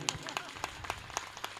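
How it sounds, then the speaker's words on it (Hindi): An audience at a Shrimad Bhagwat Mahapuran gathering claps slowly and sparsely, a handful of distinct claps spaced irregularly, fairly faint and roomy, with a voice speaking over it. "पर धीमी तालियों की जय नहीं होती,"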